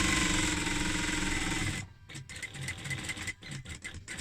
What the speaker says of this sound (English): Get to the elastic, sew over it, back tack over it again.